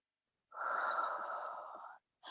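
A single long, steady breath during a Warrior 2 yoga pose, close and soft, lasting about a second and a half before a short second breath begins.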